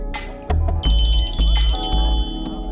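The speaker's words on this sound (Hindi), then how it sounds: "बज रहा है आपका फोन।" A mobile phone rings with a bright electronic ringtone of repeated high tones layered over heavy low music in a film scene, steady and fairly loud throughout.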